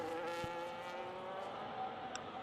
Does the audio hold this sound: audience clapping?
no